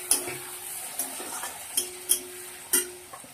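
Tomatoes added to a hot frying pan give a soft, steady sizzle, broken by a few sharp taps and scrapes of a spoon against the pan, close and fairly quiet.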